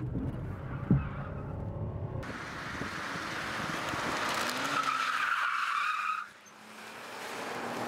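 A car skidding during a PIT maneuver in military tactical driver training: engine and tyre noise build into a long, loud screeching skid with rushing wind, then cut off abruptly near the end.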